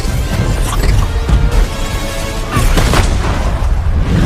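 A loud explosion in a superhero action film rumbles with heavy booms and crashing debris, a dense roar that keeps surging throughout.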